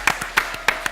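Scattered hand claps from a small studio audience welcoming Mike Fritch, owner of Eastside Big Tom's, onto a talk show: a handful of sharp, separate claps in an uneven rhythm, close and fairly loud, with no talking.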